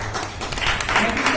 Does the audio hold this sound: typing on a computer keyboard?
no